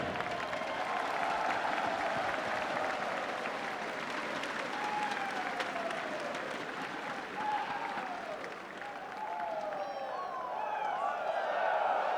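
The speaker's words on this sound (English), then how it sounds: "One more round of applause for Tekken Top 8." A large audience at the EVO 2017 Tekken Top 8 esports tournament keeps up sustained, dense applause with scattered cheers and whoops, steady and full throughout.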